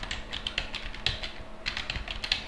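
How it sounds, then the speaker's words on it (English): Password being typed on a computer keyboard: a quick, uneven run of light key clicks with brief pauses, close by and alone with no talking. "I need a password, so I'll type my very secure password."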